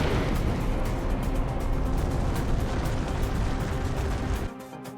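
An asteroid impact explosion sound effect: a sustained, loud, dense roaring rumble with crackling bursts. It tails off abruptly near the end.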